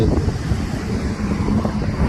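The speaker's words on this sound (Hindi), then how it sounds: "इतनी तेज आंधी आई" Loud, gusty wind roaring and buffeting nonstop, a heavy storm blast close to the microphone during a motorcycle ride, with no talking.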